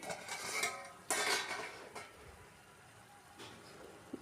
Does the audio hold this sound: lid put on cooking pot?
yes